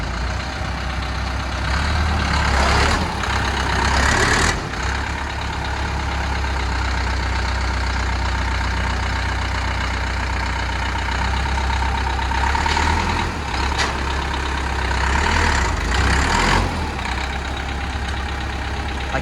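An XT-504 tractor running as a client drives it, a steady low diesel rumble with a few brief louder revving swells, continuous and fairly close, with no talk.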